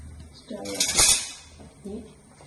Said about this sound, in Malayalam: നമ്മൾ ചീനച്ചട്ടി അടുപ്പത്ത് വെച്ചു